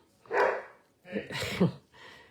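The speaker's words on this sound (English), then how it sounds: "Excuse my dog." A dog barks indoors: one sharp bark followed by a longer double bark and a softer trailing yelp, all close and fairly loud.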